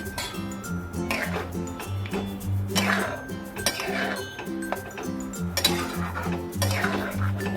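A metal spoon stirring tomato, onion and lentil dal in a cooking pot, with repeated clinks and scrapes against the pot sides in an uneven rhythm, close and moderately loud over steady background music.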